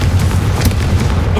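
A Confringo blasting spell bursts in Hogwarts Legacy, a loud, dense boom with heavy low rumble filling the whole moment without pause.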